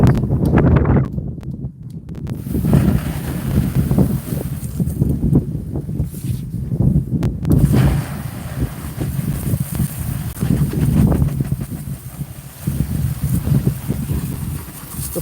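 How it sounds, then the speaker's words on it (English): Strong wind pounds the microphone in a continuous loud, rumbling roar with irregular gusts, lasting the whole time with no clear voices. "No, it's too windy. I can't do this."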